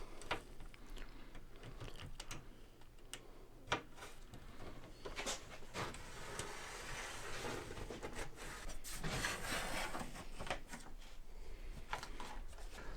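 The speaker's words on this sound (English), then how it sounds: "So we're just going to grab our knife." A knife scores plywood along a clamped straight edge, producing dry scraping and rubbing strokes with a few sharp ticks, close and moderately quiet.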